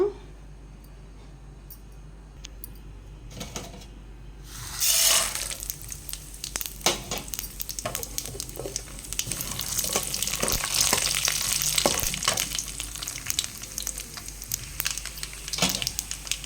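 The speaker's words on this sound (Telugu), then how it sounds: "ఆవాలు చిట్లే వెంటనే ఆనియన్ పచ్చిమిర్చి ఎండుమిర్చి అయితే వేద్దాము" Mustard seeds splutter in hot oil, then onion, green chillies and dried red chillies hit the pan for lemon vermicelli pulihora. A quiet start with scattered pops swells into a loud, continuous crackling sizzle.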